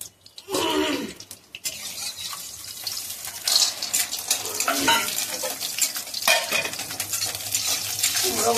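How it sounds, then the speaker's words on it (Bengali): Pumpkin stir-fried in a pan, a loud sizzle and scraping stir with clanks of a utensil against metal, surging in bursts over a steady frying hiss. "কুমড়ো একটা ভাজি নিচ্ছি, কুমড়ো বড়ি করা।"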